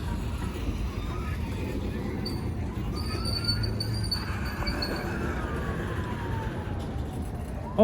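A 1929 C&O train rumbles across a giant bridge over the Ohio River, a steady low roar heard from a distance with faint squeals and tones on top.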